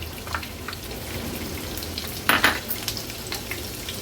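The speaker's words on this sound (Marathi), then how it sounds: "तेल गरम होत आलं की आपण फोडणीला हिरवी मिरची आणि कांदा घालूया." Green chili and onion are dropped into hot oil in a pan for a fish curry tempering, giving a sudden louder sizzling burst partway through over a continuous soft frying crackle, heard close up without speech.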